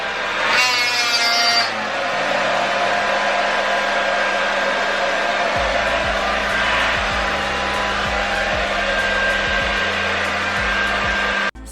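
A hair dryer blows with a steady loud whoosh and hum as it dries 4c hair during a wash and go, running continuously close by before cutting off at the end.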